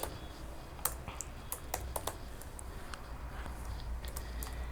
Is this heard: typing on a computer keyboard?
yes